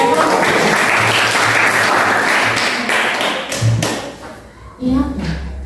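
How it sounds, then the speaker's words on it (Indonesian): Classmates applaud group 3 in a school lesson, a burst of close, loud clapping with scattered taps and thumps that trails off into a few separate claps. "Kita berikan tepuk tangan kepada"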